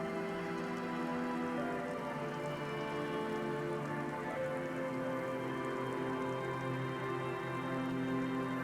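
Steady rain falls in the video game Disco Elysium, in a coastal scene with reeds and breeze. It is a continuous, even hiss of drops that stays at a low, constant level throughout.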